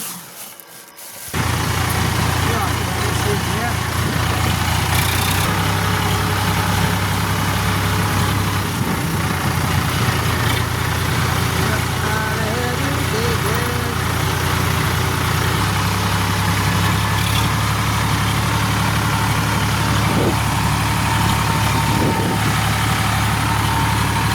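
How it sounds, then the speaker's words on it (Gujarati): A farm tractor engine cranks into life after a brief quiet start and then idles steadily with a low, even diesel drone, close and loud, with no talking. "તો ચાલો આપણે ટ્રેક્ટર ચાલુ કરીએ અને જઈએ ઘેર"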